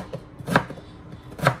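Two crisp knife strikes of leaves being chopped with a sharp knife on a board, spaced about a second apart and close up, with quieter handling sounds between and no talking.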